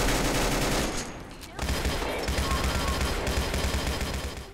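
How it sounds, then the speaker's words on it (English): Heavy machine gun fire in Fallout 4, loud sustained rapid bursts with a dense rattling texture, a brief lull just before the second second before the firing resumes steadily. "Wasteland Melody's Heavy Machine Gun by Wasteland Melody"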